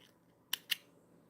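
Two quick, crisp scissor snips close by cut the tail of beading thread on an odd count peyote bracelet, in an otherwise quiet room.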